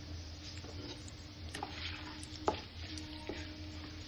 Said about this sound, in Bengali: এবার দিচ্ছি কয়েকটা গোলমরিচ, আর দিচ্ছি কয়েকটা দারচিনির টুকরো, দিচ্ছি থেতো করে 4টে এলাচ